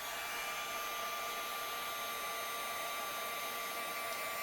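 Heat embossing tool blowing hot air over embossing powder on a stamped card, a steady continuous whooshing fan-and-air roar held at even loudness throughout, with no talking.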